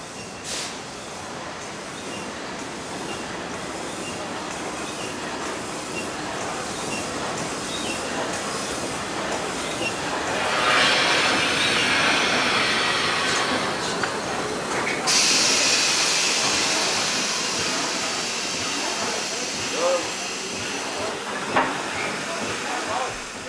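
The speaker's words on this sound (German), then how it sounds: "Einfahrt in den Bahnhof Berlin-Lichtenberg." Steam locomotive 18 478, a Bavarian S 3/6, rumbles and hisses steadily, with bursts of venting steam and broadband noise building as it rolls into Berlin-Lichtenberg station, loud and close.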